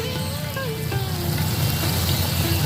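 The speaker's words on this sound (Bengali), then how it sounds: "আর একটু মশলাটাকে কষিয়ে নেবো" Masala cooking down in hot oil for Bengali rui posto, a steady close sizzle and crackle of frying spices without turmeric, continuous and moderately loud with no talking.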